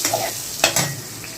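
Ground cumin and spices stirred in a hot frying pan, a soft sizzle under a couple of brief scraping strokes, close and short.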